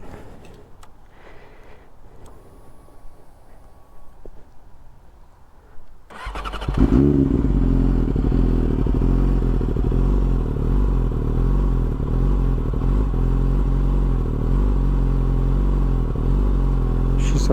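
A 2020 Yamaha YZF-R6 sport bike engine cranks over and fires up, settling into a loud, steady, close idle after several seconds of quiet background.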